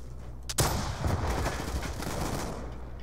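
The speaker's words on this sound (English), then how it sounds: "I killed somebody with a rocket." Black Ops 2 Gun Master match: a sharp rocket launcher blast kicks off, followed by a sustained roar of gunfire and explosions lasting several seconds, loud and dense with no talk over it.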